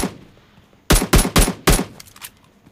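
Gunfire in the mobile battle-royale game PUBG Mobile: a rapid burst of four loud, close shots followed by fainter echoing tails, with no talking over them.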